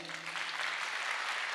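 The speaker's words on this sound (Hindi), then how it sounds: "सबसे पहले तो इनके लिए जोरदार तालियां।" A seminar audience gives a short burst of dense, enthusiastic clapping, steady and moderately loud from start to finish.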